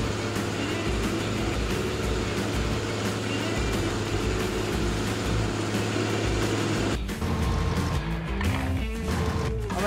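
A truck in Farming Simulator 19 drives with a steady, loud engine drone throughout, its tone shifting abruptly near the end as the load changes; no one speaks.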